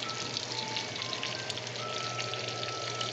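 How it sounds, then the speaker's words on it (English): Chopped onion sautes in a pan, giving a steady, even sizzle that hisses without a break from start to finish and sits fairly close. "Add the onion. We're gonna saute it down for about 10 minutes."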